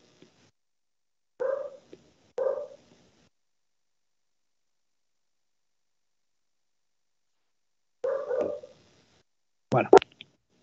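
A colleague's small dog barks through a microphone in short bursts: two quick yaps, a pause, then two more, loud and close against an otherwise silent line.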